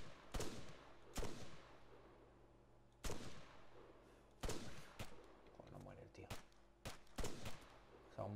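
Gunfire in the military shooter Arma 3, Wasteland mode, including an MK20 rifle: about eight sharp shots at irregular intervals, each with a long decaying echo across open terrain, with no speech.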